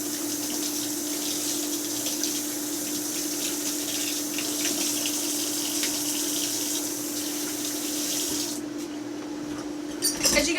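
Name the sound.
water running from a tap while washing hands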